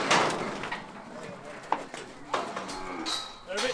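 A herd of cattle on an open-range farm moos in several low, drawn-out calls from varying distances, with speech talking over them throughout.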